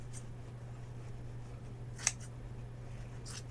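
Scissors snip through white stretch fabric in three faint, brief cuts spaced a second or so apart over a steady low electrical hum.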